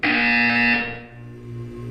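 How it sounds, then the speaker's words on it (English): Buzzer in the video game Portal 2, a loud harsh electronic buzz that sounds for about three quarters of a second and then cuts off, leaving a lower lingering hum. "You will hear a buzzer."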